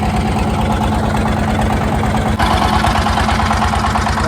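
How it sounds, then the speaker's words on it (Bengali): Motorized trawler boat engine idling with a steady, loud low-pitched throb and regular knocking pulses, continuous throughout with a slight shift in tone partway through; no talk. "কারণ জান্নাত তো আবার হাঁটতে পারবে না, এই জন্য ট্রলার নিচ্ছি যাতে একেবারে ঘাট পর্যন্ত যাইতে পারি।"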